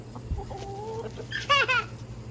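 A few close clucks from egg-laying hens and a short rising squawk, then a brief burst of hen cackling, with a low steady hum underneath.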